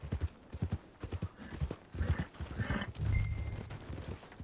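Horse hooves clip-clop at an unhurried walking pace in Red Dead Redemption 2, a steady rhythmic clatter of fairly close hoofbeats with a faint snort and soft ambient game sounds beneath.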